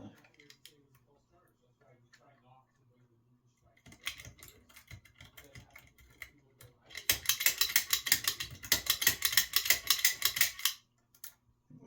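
Lock picking with a tension wrench: faint clicks and scrapes of pins and metal at first, building to a dense, loud run of rapid metallic ratcheting clicks in the second half, with quiet talk early on.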